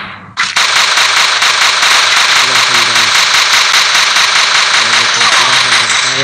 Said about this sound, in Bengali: গাড়ির শব্দ, গাড়ির শব্দ,